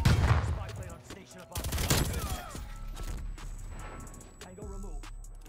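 Stoner 63 machine gun fire in Call of Duty Cold War, rapid automatic bursts in several loud clusters separated by brief pauses, with a voice talking over parts of it.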